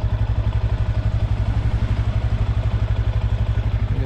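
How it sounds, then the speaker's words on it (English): A 2025 Honda Grom motorcycle engine idling with a steady, rapid low-pitched thumping pulse and a mechanical clatter, close and loud throughout, no voices. "Bike sounds nice."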